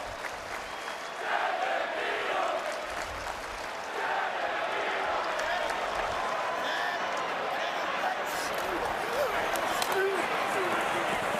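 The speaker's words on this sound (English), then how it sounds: "Crowd chanting Devin Neal." College football crowd in a stadium during a Colorado vs Kansas game, a dense roaring mass of voices with rhythmic chanting swelling throughout, while a broadcast commentator talks over it.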